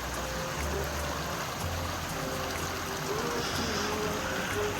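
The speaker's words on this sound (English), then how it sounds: "You got one waterfall." Steady rushing water of a waterfall in an outdoor nature setting, a broad constant roar with low drone underneath, close and continuous with no clear voices.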